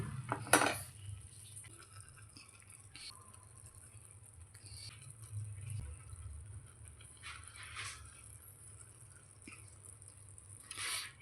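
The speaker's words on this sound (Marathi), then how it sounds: "गोल्डन अंडी असं टाकून घेऊया आपण" Golden fried eggs being set into a pot of egg biryani rice: a sharp metallic clatter of utensils at the start, soft scrapes and taps through the middle, and another clink at the end.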